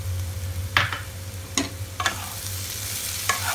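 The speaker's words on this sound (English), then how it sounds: "They have been frying for 7 to 8 minutes now." Soya chunks and capsicum fry in a pan, a low steady sizzle broken by several sharp scraping stirs of a spoon against the metal, close and clear with no talking.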